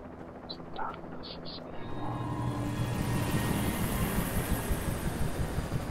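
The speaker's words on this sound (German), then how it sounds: "Haben sie echt einen Helikopter?" A helicopter in the Alan Wake video game thunders in and builds to a loud, steady rotor roar that fills the scene, with brief high game tones at the start.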